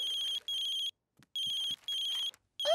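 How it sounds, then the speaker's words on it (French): A mobile phone left at home rings in an animated family show, four even bursts of a bright electronic ringtone separated by short silences, close and loud. "Papa a oublié son téléphone. Et regarde, ça sonne"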